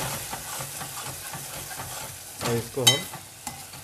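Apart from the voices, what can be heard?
quail curry base of onion, garlic and spices frying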